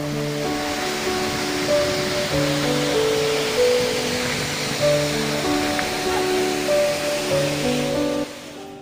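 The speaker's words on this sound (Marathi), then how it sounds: "टेंबे धबधबा हा भंडारदऱ्याच्या निसर्ग सौंदर्याला अजूनच खुलवणारा" Temble waterfall at Bhandardara gives off a steady, full rushing roar that holds almost unchanged throughout, with faint sustained tones running beneath it.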